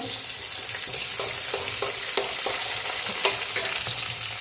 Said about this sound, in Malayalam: പിന്നെ ഇഞ്ചി ഇട്ട് കൊടുത്തു പിന്നെ പച്ചമുളകും നമ്മുടെ പുളിയും കൂടി ചേർത്ത് ഇതൊന്ന് നമുക്ക് ഇളക്കി കൊടുക്കാം